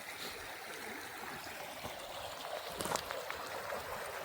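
A river stream flows steadily as a continuous broadband rush, constant in level with a slight swell near the end, outdoors and without speech.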